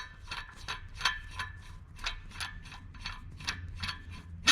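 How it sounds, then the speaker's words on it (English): A wrench ratchets a nut to press a new wheel stud into the hub of a 2001 Freightliner bus, producing a steady run of quick, close metallic clicks with a faint low hum beneath. "tighten the nut all the way up."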